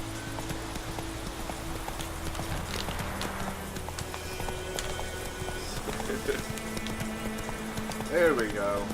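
Roach the horse galloping in The Witcher 3 video game, a quick, steady clip-clop of hooves throughout with game music, a brief neigh near the end, and someone talking over it.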